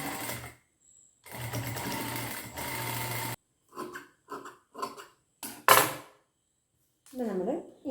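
A sewing machine stitches the curved part of a collar on a fancy top in several bursts, a long run followed by short stop-start runs, close and clear with brief pauses between.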